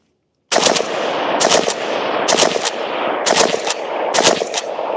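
Rifle fitted with a Diablo T.A.R.S. trigger firing in quick bursts, five clusters of loud, close, cracking shots over a continuous echoing roar of the range, no one speaking.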